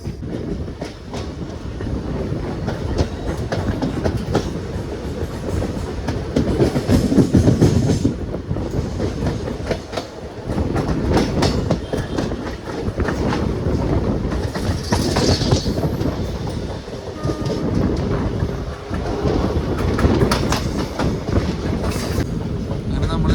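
A train rumbles along the tracks approaching Chengannur railway station, with rhythmic clickety-clack of wheels and occasional squeals, loud and close throughout.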